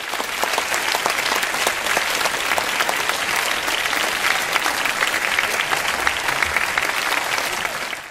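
Sustained audience applause at a Taiwan Bank choir concert, dense steady clapping from a full hall that holds at an even level throughout and tapers slightly at the very end.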